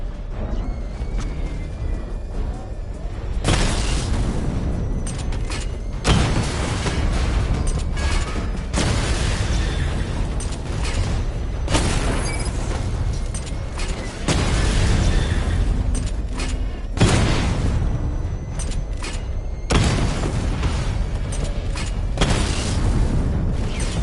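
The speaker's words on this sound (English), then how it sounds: "Charge up missile barrage to level 2 and destroy 4 active targets to complete diagnostic test" Repeated missile barrage explosions in Batman: Arkham Knight, loud booming bursts arriving every few seconds with mechanical clatter between them, heavy and close.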